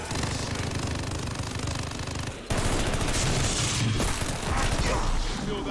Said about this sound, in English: Oh my god, a dude with a fucking Gatling gun.